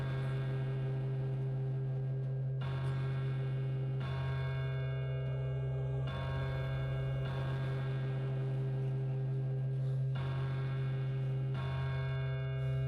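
Bells ring in the video game Pathologic 2, a sustained, resonant tolling over a steady hum, with fresh strikes roughly every two seconds and no speech.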